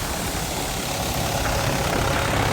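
A Shaktiman side-basket thresher driven by a Mahindra 575 tractor at about 1100 rpm churns out a steady, dense mechanical roar, close and unbroken throughout.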